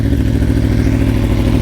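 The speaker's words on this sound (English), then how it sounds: "So I'm going to fire up the Aprilia." An Aprilia Tuono motorcycle engine idles close by, a loud, deep, rapid lumpy pulsing that stays steady throughout with no voices.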